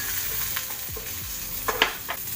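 Chopped small onions and ginger sauté in oil with a close, continuous sizzle, broken by a few soft stirring scrapes and pops, with no voices.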